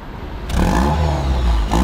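A Honda HR-V engine revs up, heard close at the exhaust, a loud rising engine roar that holds briefly and then eases off.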